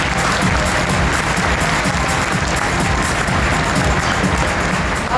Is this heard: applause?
yes